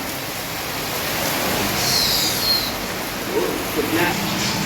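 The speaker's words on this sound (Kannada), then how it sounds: "ಒಳ್ಳೆ ಮಳೆ ಬಂತಲ್ಲ ಎಂತ ಮಾಡೋದು ಈಗ" Heavy rain pours down onto a home terrace, a dense, steady hiss that rises slightly in the middle and stays fairly loud from start to finish.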